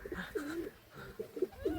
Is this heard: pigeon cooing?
yes